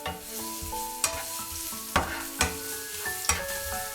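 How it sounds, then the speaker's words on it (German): Spring onion rings and garlic fry in a hot oiled pan, a steady sizzle broken by several sharp scrapes and knocks of a utensil stirring, with no talking over it. "Weiße Lauchzwiebelringe und Knoblauch anbraten."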